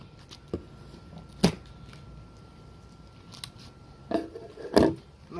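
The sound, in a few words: cutting packing straps on a Blackstone griddle box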